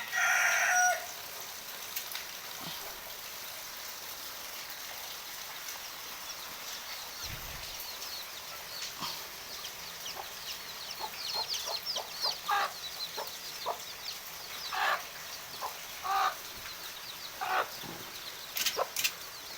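Hens clucking and chicks peeping in scattered bursts, fairly close, with a rooster-like call near the start and no talking.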